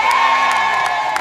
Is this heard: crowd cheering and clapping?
yes